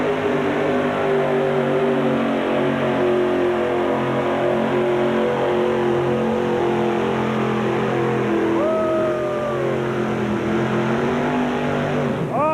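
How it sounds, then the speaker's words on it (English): The engine of a pulling tractor at a 1986 truck and tractor pull at Freedom Hall revs loud and steady, a dense, continuous roar close by that holds throughout, with a brief rising squeal near the end. "He's revving her up, and here it goes."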